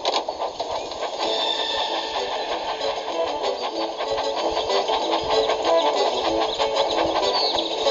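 A cartoon Thomas the Tank Engine train in a mobile video game runs with a steady mechanical chugging rhythm under bright game music, continuous and fairly loud throughout.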